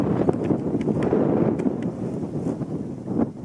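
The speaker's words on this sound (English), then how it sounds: "The wind's really kicking up now." Strong wind gusting outdoors at a rifle range, a steady broad rush with brief swells, buffeting the microphone and filling the whole stretch without speech.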